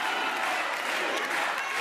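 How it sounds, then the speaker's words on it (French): Dense applause from a comedy show crowd, steady and fairly loud throughout with no pauses. "On peut l'applaudir."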